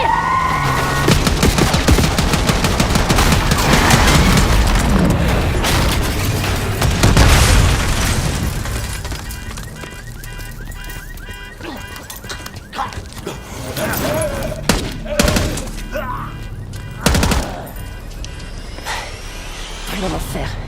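Gunfire and explosions in Call of Duty Black Ops 6 come as loud booms and rapid volleys during a street scene with an arriving limousine, with in-game voices speaking at points.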